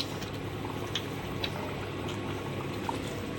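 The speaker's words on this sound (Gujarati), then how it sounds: "હજી ગ્રેવી ચડે છે" Onion gravy simmering in a pan makes a soft, continuous bubbling hiss with small scattered pops, quiet and steady throughout.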